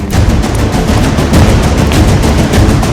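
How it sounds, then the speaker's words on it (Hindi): Dense, continuous gunfire close by, with rapid shots blending into a loud roar and no pauses. "अंदर गोली चली अंदर।"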